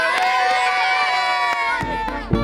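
Spectators cheering at the 2013 Dublin Marathon: a loud, dense roar of many voices with whoops and shouts, sustained throughout, with a few sharp peaks near the end.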